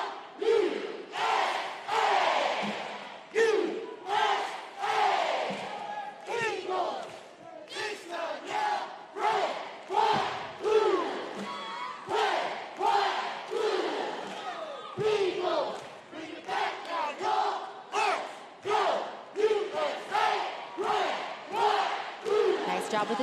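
A cheerleading team at an international cheer championship shouts a loud, rhythmic chant in unison, with sharp bursts of voices separated by brief pauses, repeating steadily over more than twenty seconds with crowd noise behind.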